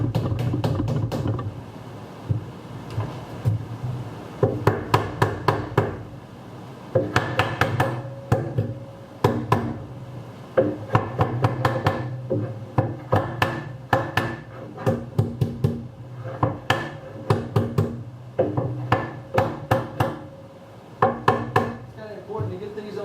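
Staple gun fastening wooden roof rafters on a 5 by 10 teardrop camper, sounding as repeated sharp clacks in quick bursts with pauses between, over a steady low hum.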